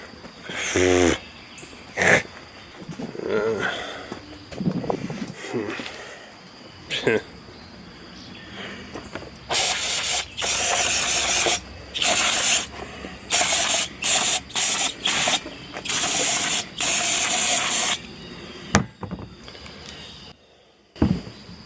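Speech at first, then a loud hissing, sputtering rush in repeated bursts as water comes to a rolling boil in a kettle, close by.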